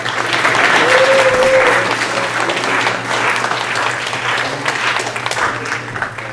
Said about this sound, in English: let's give Dr. Zhu a round of applause, please